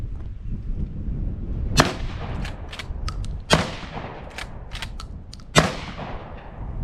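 Three loud, sharp shotgun blasts from a Black Aces Tactical 12 gauge lever-action shotgun at an outdoor clay shoot, spaced unevenly over several seconds with a few fainter distant pops between them.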